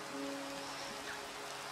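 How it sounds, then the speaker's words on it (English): Rain falls in the video game Minecraft as a steady, even hiss with faint tonal touches, brief and without talk. "Oh, it's raining."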